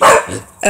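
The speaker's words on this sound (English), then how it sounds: "oh, wait, no. That was my dog." A guard dog gives a single sharp bark close by outdoors, loud and abrupt, followed by a short fading tail.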